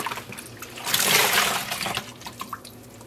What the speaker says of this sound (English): I always rinse off these pans to rinse the acid off of them